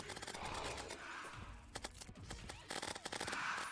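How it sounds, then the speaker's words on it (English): A rapid-fire homing shotgun blasting in Terraria, modded with Mod of Redemption and used in the Moon Lord fight, with dense, continuous bursts of gunfire and impact noise clattering throughout at steady high volume. "a shotgun homing weapon like this with rapid fire"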